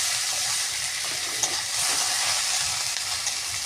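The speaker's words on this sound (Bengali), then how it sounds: "আর নুন। দিয়ে এটা একটু কষিয়ে নিতে হবে।" Small fish fry with vegetables, turmeric and salt in a pan, giving a steady, loud, close sizzle that holds unbroken throughout with faint stirring clicks.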